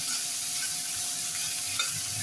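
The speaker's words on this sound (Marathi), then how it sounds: "कांदा आपण छान फ्राय करून घेऊया।" Finely chopped onion sizzles steadily in a pan for upma, a continuous close frying hiss with faint stirring and no talk.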